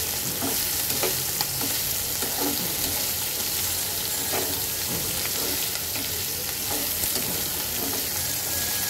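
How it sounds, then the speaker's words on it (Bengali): Onions with green chillies are stirred as they fry in a pan for a mola fish chorchori, a constant close sizzle broken by scattered scrapes and clicks of the spoon. "এইবার আমি পেঁয়াজটাকে একটু নেড়ে দেব"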